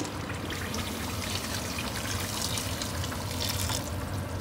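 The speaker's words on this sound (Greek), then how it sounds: "Συμπληρώνουμε λίγο νερό, το κλείνουμε." Water pours into a pot of veal stifado with mushrooms, a steady splashing trickle that runs continuously at close range without any speech.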